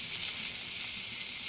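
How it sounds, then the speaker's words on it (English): Oil sizzling in a pan while cooking shrimp scampi, a steady, even hiss with no pauses or voices. "get that sizzle going"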